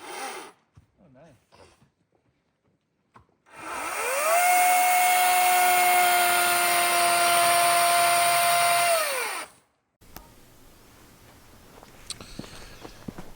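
A power tool cuts wooden beams down to length while building a dog kennel, a loud, steady whine that holds for about six seconds, with quieter handling noises and movement before and after.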